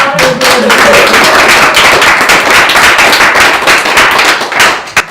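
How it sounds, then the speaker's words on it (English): An audience at a youth centre speaking and listening session breaks into steady, loud applause of many hands, continuous and dense from start to finish. "And we clap."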